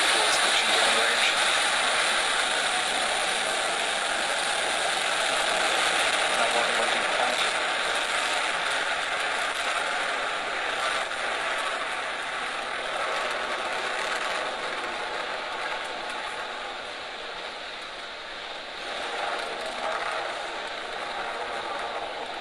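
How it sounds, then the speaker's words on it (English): Falcon 9 rocket lifting off carrying a satellite, a steady broadband roar that swells and holds loud and unbroken, heard from a distance without breaks. "Ignition, liftoff."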